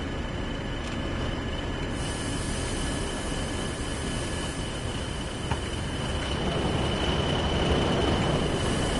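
A locomotive hauling over 1,500 tonnes of fuel in Train Sim World rumbles steadily, with a constant engine drone, a faint high whine and a slight rise in loudness toward the end, with no talking.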